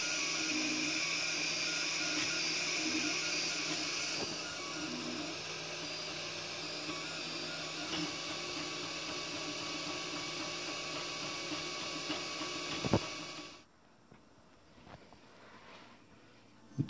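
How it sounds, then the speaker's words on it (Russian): A 3D printer runs while printing a small lid for a homemade 5-volt lamp, a steady whirring hum with stepper-motor whines and clicks that continues for a long stretch, then stops abruptly, leaving near silence and a few faint clicks. "Крышечку мы напечатаем на 3D принтере."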